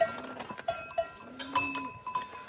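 Cattle in a herd where a low-ranking cow just routed a higher-status one, heard as faint, scattered animal sounds and a low tonal call, with what may be a cowbell clinking intermittently in the background; no talking.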